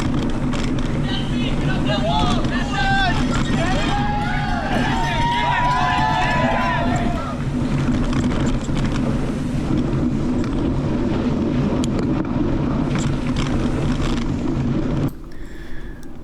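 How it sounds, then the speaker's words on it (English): Spectators along a running race course cheering and shouting, with whoops and calls over a constant rumble of wind and movement, and talk mixed in before the sound cuts down near the end. "I'm going to unmute this for a second so you can hear the crowds"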